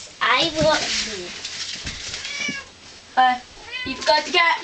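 A house cat meows several times in short, rising and falling cries, mixed in with close-up chatter from people, including a voice, speaking throughout.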